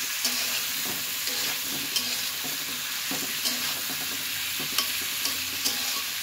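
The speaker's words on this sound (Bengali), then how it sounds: "হলুদ অ্যাড করে দিলাম এবং ভেজে নিচ্ছি" Vegetables with salt and turmeric sizzle in a pan while a spatula stirs and taps against it in regular strokes, close and alone with no talk.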